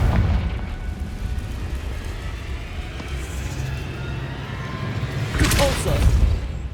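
A Confringo spell explosion in the wizarding game Hogwarts Legacy, a burst that swells toward the end over a steady low rumble of game ambience.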